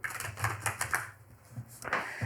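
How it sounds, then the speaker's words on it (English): A deck of tarot cards is shuffled close up, giving a quick run of crisp riffling flutters and soft card taps with short pauses. "Let me shuffle this deck for you."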